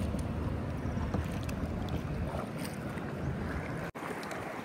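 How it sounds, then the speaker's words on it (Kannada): Wind gusts across a kayak out on open water, producing a constant rushing buffet against the microphone with faint water movement beneath and a brief dropout near the end. "ಗಾಳಿ ಬೀಸ್ತೈತೆ"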